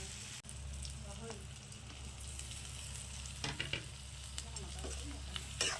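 Pork with onion, ginger, garlic, salt and turmeric frying in oil, giving a steady, fairly quiet sizzle with a few spatula scrapes and clinks toward the end.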